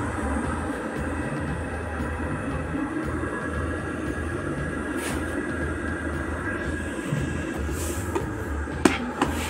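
Vista electric kettle heating water with a steady, fairly loud rumbling hum and low drone throughout, broken by a couple of faint clicks near the end.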